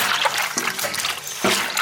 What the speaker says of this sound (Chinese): 下面我们把那个大肠给它清洗一下，放白醋进去，再加点面粉，这样可以去异味。